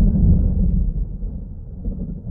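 A strong thunderstorm in the video game Minecraft, a deep continuous rumble of thunder and storm noise, loud and heavy throughout with no voices.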